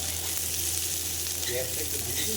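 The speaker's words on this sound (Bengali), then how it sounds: "পেঁয়াজটাকে ভালো করে ভেজে তার মধ্যে এই সিদ্ধ ছোলাটাকে দিয়ে আর একটু ভেজে দাও লঙ্কা টঙ্কা দিয়ে" Onion frying in a pan with boiled chickpeas and chillies gives a constant dense sizzle throughout, close and even in loudness.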